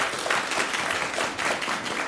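An audience applauds at a Newport Beach city council meeting: dense, steady clapping fills the full two seconds at an even level, with no break or swell.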